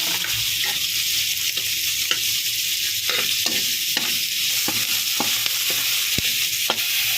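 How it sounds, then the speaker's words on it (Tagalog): Onion and garlic sautéing in a hot pan, a loud continuous sizzle with sharp clicks and scrapes of a utensil stirring, no talking. "Tapos, lagay natin itong sibuyas sa bawang"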